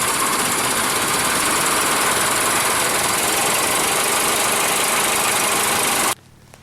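Old car engine started and idling at a remote outback campsite, a loud, rough, knocking rattle running steadily before cutting off abruptly near the end.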